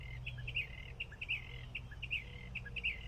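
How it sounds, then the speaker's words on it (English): A small bird chirps from a tree in a backyard, with repeated short high tweets coming in clusters over a steady low background rumble, moderately near and clear. "Oh, little bird up in the tree."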